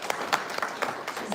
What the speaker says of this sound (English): We can please give her a round of applause.